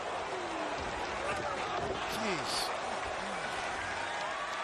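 Thousands of fans at the AEW Double or Nothing wrestling event cheering and clapping, a broad steady roar under a voice speaking close by.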